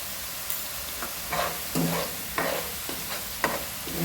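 Chole masala with red chili powder sautéing in a pan, a steady close hiss of frying with a spoon scraping and stirring every half second or so, no voices.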